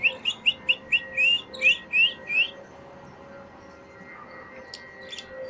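A pet bird, a small parrot-type, gives a quick run of bright, high chirps, about eight rhythmic tweets in two seconds. They are close and loud, then fade to quiet room noise with a few faint peeps.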